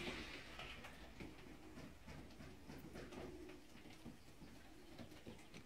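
Pigeons coo softly in a steady, low murmur, with a faint background rumble throughout.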